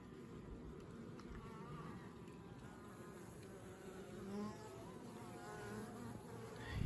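Many honeybees buzz together at an apiary in a dense, steady drone, close and continuous, with no voices.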